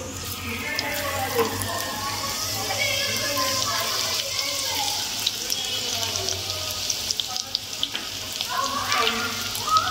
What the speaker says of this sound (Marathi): ठेचलेलं लसूण घालायचं.